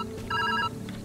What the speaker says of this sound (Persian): تلفن زنگ میزنه، تلفن زنگ.